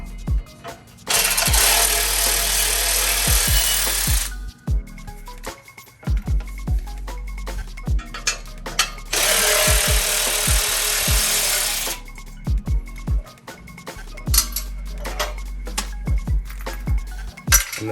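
Bolts backed out of the side pieces of a Matco Tools transmission jack: two bursts of a close power tool whirring for about three seconds each, separated by metallic clinks, taps and rattles of parts and tools.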